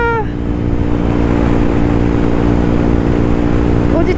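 An Audi TT car driving past on a road, heard from a motorcycle as a loud, steady broadband engine and road roar with engine tones throughout, close by.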